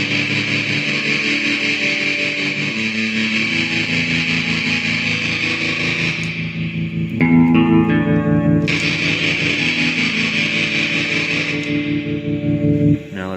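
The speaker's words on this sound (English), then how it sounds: "let's try the distortion" A loud, sustained distorted electric guitar ringing out as open strings, played through a BOSS DD-500 delay pedal, thick and buzzy with a brief change in tone partway through, no talking.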